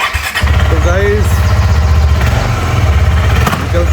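A motorcycle engine starts at the outset of a solo bike tour in Gujarat, catching quickly and settling into a steady, loud, close rumbling idle while a person talks over it.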